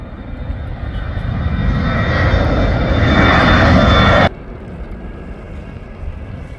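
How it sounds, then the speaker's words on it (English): A plane climbs out over the causeway at Sint Maarten, its jet roar loud and close, swelling steadily before cutting off abruptly partway through as wind buffets the microphone. "there goes a plane rising right now."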